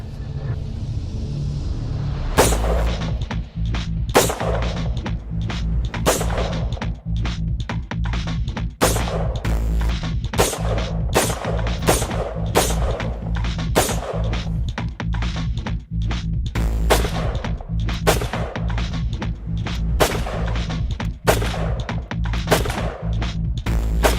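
Repeated gunshots from a single 3D-printed firearm, sharp loud cracks fired one after another at an irregular pace over a steady low rumble, with no talking.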